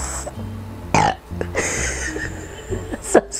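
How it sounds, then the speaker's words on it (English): A short, thin, high-pitched burp after inhaling helium rises out of quiet background noise, followed by another brief squeaky belch a couple of seconds later. "I can't get a big burp."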